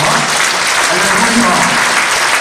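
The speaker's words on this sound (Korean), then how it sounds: "우리 하나님께 영광의 박수로 감사드리겠습니다." Congregation applause fills a large church hall after a Handel Messiah Hallelujah performance at an Easter-season Baekseok denomination service, a steady dense wash of many hands clapping with faint voices mixed underneath.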